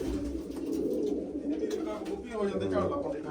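Pigeons coo in soft, low, rolling bursts nearby, mixed with a murmur of human voices in the background.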